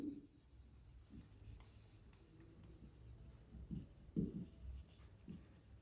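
Faint scratching of writing on a board during a B.Sc. physics lecture on tensors, a soft, low, uneven rubbing that comes in short strokes against a quiet room.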